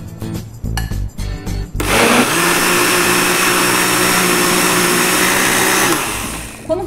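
An electric blender starts after a few clunks and handling noises and whirs loudly for about four seconds, beating a thick batter for chicken pie dough, then winds down near the end.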